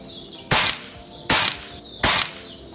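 An Air Venturi Behemoth air rifle fires pellets in three sharp, evenly spaced shots, each a crisp loud crack with a short decay, alone against quiet background.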